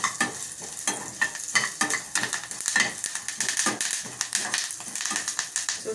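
Cumin seeds crackle and sizzle in hot oil in a frying pan while a masala karam spice mix is made. Dense, rapid pops and ticks continue steadily under a soft frying hiss.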